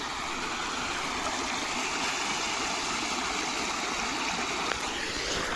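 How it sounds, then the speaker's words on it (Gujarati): Water flows steadily in a stream on a calm morning, a continuous close rushing and trickling wash that holds constant throughout with no talk. "પાણીનો અવાજ સાંભળીએ ને આપણે તોય મજા આવે"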